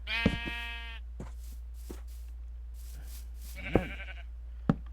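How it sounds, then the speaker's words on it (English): Sheep in the video game Minecraft bleat several times, a few short close calls spaced out over a few seconds against a low steady game hum, with a couple of faint clicks between. "among the sheep."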